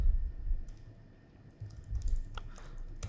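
Scattered keystrokes tap on a computer keyboard, soft and close, in a few quick bursts against a quiet room hum.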